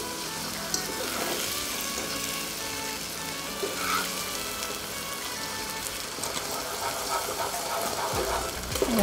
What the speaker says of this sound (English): Now ready to put in the eggs.